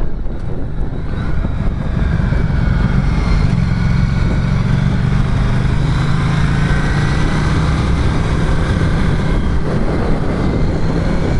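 A Ducati Diavel 1260 motorcycle engine roars while riding, a loud, continuous close-up drone with the pitch of the engine rising and holding steady as it pulls hard, and no talk over it.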